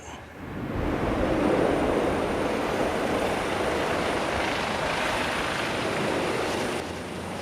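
A medical transport helicopter in flight at night, carrying an eight-month-old baby to a transplant centre in Lyon; a steady, loud broadband rotor and engine roar holds evenly for several seconds.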